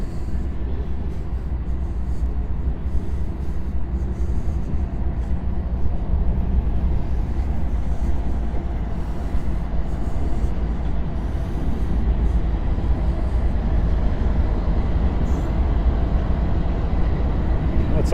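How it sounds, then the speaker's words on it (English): A freight train led by about six locomotives rumbles past in a steady, heavy low drone throughout, loud and continuous, heard from a nearby street. "It's all locomotives at the beginning. I don't know how many of them are active and how many of them are just being towed."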